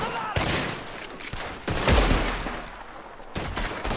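Bursts of gunfire in the video game Red Dead Redemption, with several sharp shots and rapid volleys, some loud and close, between short gaps with background game noise.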